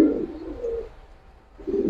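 A colored domestic pigeon gives two short, soft low coos, close by with a brief pause between them.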